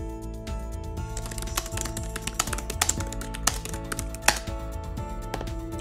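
Someone types a chapter title on a computer keyboard: a steady run of close, crisp key clicks with a few louder taps, with no voices.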